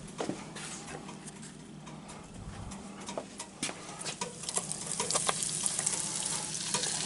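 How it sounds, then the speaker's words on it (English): Breaded eggplant slices bubble and sizzle in a deep fryer, a steady hiss with crackling pops that grows slightly louder toward the end. "You drop them in the fryer"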